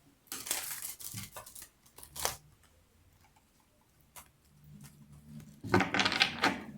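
Quick bursts of riffling paper cards being shuffled, close by, in several separate flurries with short quiet gaps between them.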